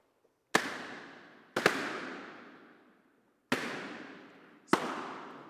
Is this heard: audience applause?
no